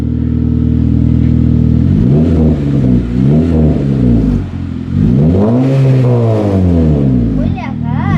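A 9th gen Honda Civic Si fitted with an Invidia catback exhaust idles, then revs repeatedly with rising and falling engine pitch, loud and close, while people talk over it.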